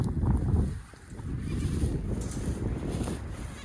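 Freshly sheared sheep bleat outdoors in a windy field, a few close, fairly loud calls running over steady wind rumble on the microphone.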